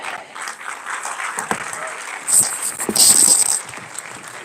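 Audience applause at a University of Calabar freshmen orientation, a steady wash of clapping from a large crowd with a few louder bursts and cheers, voices mixed in underneath.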